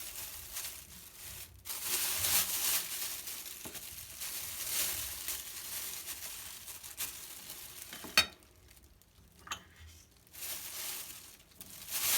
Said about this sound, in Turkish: un, tuz ve ciğeri karıştıracağız